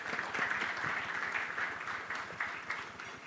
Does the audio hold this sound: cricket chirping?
no